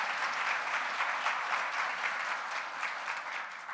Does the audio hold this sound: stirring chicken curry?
no